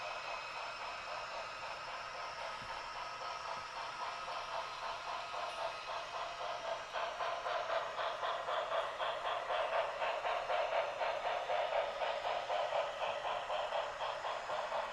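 An MTH model train runs on a loft layout, its faint, steady wheel rumble and clicking rhythm growing slightly louder partway through as it comes closer, over a low hiss, with no talking.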